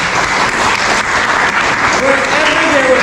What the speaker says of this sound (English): so I just wanted you to give her a round of applause.